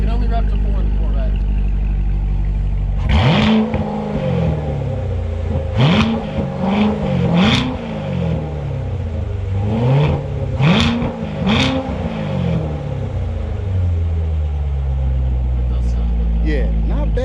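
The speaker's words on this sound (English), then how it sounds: "you can only rev to 4 in the Corvette" Corvette Grand Sport engine revved repeatedly, about seven sharp blips rising and falling in a rhythmic pattern, held to around 4000 rpm, loud and close over a steady idle, with people talking at times.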